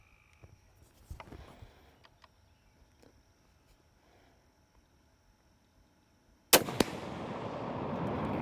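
A .50 BMG rifle fires at aluminum: after a quiet stretch of faint outdoor ambience, one sharp, very loud report cracks out, followed by a quick second impact and lingering broadband echo.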